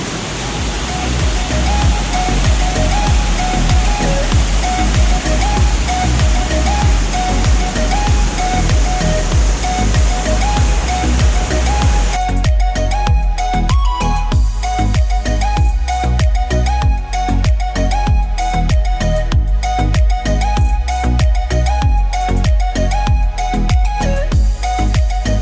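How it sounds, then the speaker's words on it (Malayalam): A small but forceful waterfall pours between rocks and leaves near an aqueduct, giving a loud, unbroken rushing roar up close that thins and sharpens partway through. "ഇതാണ് നമ്മൾ കാണാനിരുന്ന വെള്ളച്ചാട്ടം. ചെറിയ വെള്ളച്ചാട്ടമാണ്, പക്ഷേ നല്ല ഫോഴ്സുണ്ട്."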